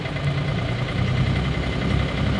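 Sailboat engine idling steadily at low revs, a continuous close, even rumble with a low throb and no talking over it.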